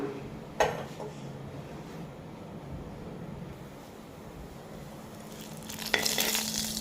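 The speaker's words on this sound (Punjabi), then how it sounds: "ਇੱਕ ਕੜਾਹੀ ਦੇ ਵਿੱਚ ਛੋਟੇ 2 ਚਮਚ ਮੈਂ ਲਿਆ ਤੇਲ ਦੇ ਤੇਲ ਦੇ ਗਰਮ ਹੋਣ ਤੇ ਇਹਦੇ ਵਿੱਚ ਪਾ ਦਵਾਂਗੇ ਆਪਾਂ ਜੀਰਾ" Cumin seeds sizzling in about two small spoons of hot oil in a kadhai, a steady soft hiss with a sharp clatter near the start and a brighter burst of frying toward the end.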